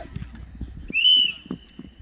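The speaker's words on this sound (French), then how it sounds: "Il y a coup franc pour les bleus, il a sifflé." A referee's whistle sounds once, a short loud shrill blast during a youth football match, over footsteps and thuds on the pitch with voices around.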